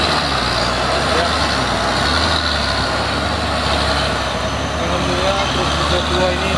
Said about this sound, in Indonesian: alhamdulillah truk kedua ini sampai ke tanjakan